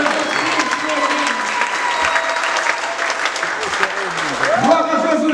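A church congregation applauds with loud, steady clapping throughout, a voice speaking over it and a brief rising vocal cry near the end.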